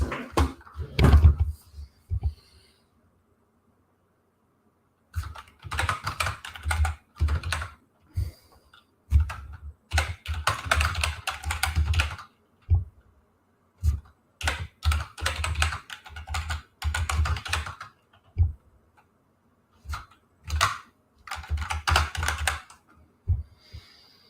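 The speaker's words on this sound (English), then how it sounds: "let me get back to typing" Bursts of rapid clicking keystrokes on a computer keyboard, coming in irregular runs separated by short pauses, close and fairly quiet, with no talking.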